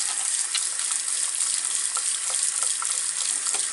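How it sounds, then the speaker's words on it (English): Tap water runs steadily into a sink while hands are rinsed during handwashing, a close, loud, even hiss of splashing water with faint small splatters and no speech. "Then you rinse. Make sure you do not touch the sink at any time."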